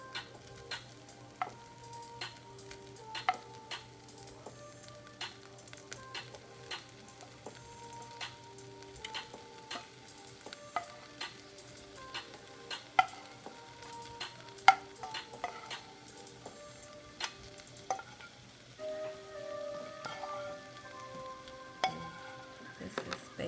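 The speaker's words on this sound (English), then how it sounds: "Go ahead and add your shrimp to the rice mixture." Shrimp stirred into homemade shrimp fried rice in a hot pan, a faint steady sizzle under repeated light clicks and taps of a utensil scraping through the rice, quiet and close.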